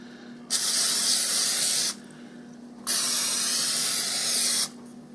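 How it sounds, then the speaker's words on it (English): Cooking spray hisses from an aerosol can into a cheesecake pan lined with a mashed crust, in two steady bursts of about a second and a half each, close and loud, with a faint hum underneath. "I'm going to give it a spray."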